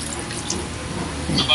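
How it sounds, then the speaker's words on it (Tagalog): Water is poured into a pot of pork ribs caldereta with soy sauce and calamansi, a steady hissing splash that swells toward the end, with a voice audible underneath. "Tapos lagyan po natin ng konting tubig."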